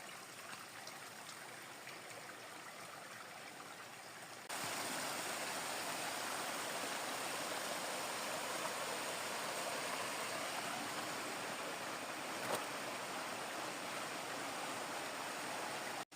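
A river rushes past a camping spot on the Camino de Santiago, a steady broadband wash of flowing water that grows noticeably louder partway through and runs on with no talking.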